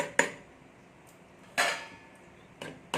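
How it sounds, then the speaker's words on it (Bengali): A lid is set on a cooking pan of raw mango, giving a few sharp, clattering knocks: one near the start, a louder one midway, then two lighter taps near the end, with quiet gaps between. "এখন এখানে আমি ঢাকাটা দিয়ে দিলাম"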